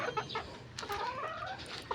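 Battle cross hen in a small backyard poultry yard giving soft, faint clucks and low murmuring calls over about two seconds, close by and with no voices.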